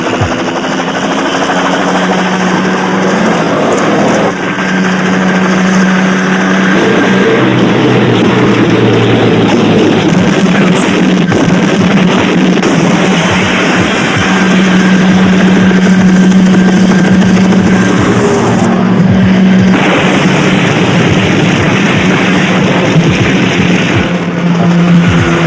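A car engine drones loud and close in an action film, rising and falling in a sustained rumble as it accelerates, with roaring surges and shifting pitch layered with other noise throughout.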